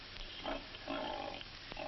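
Pigs being groomed and powdered white at a 1947 show give faint, low grunts amid murky background noise, the sounds soft and scattered rather than distinct.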